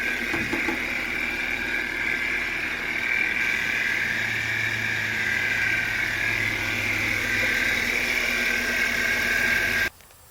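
A Porsche Cayenne's 30-valve 2.8-litre V6, leaky but clean, running at a steady idle with a whirring hum close by, then cutting off abruptly just before the end.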